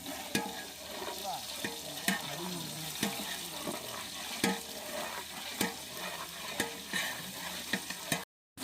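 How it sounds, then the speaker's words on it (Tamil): Onions, green chilli and ginger sizzle steadily in a hot pan while a utensil scrapes and stirs at regular intervals, close by, with no talking. "வெங்காயம் நல்லா வதங்கிடுச்சு"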